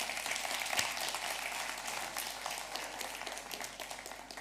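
Audience applause at a lawyers' association congress opening plenary, a dense steady clapping from a large crowd throughout, moderately loud and fairly even, with no clear speech over it.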